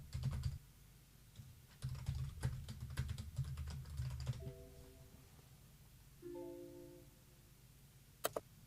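Quick bursts of typing on a computer keyboard at close range, dense key clatter in uneven runs separated by pauses, with a few faint tonal beeps later and a sharp click at the end.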